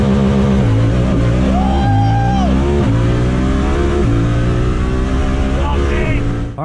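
A Honda Talon four-seater side-by-side sits in launch mode as its engine revs loud and close, the pitch stepping up and dropping back several times in repeated blips and holds.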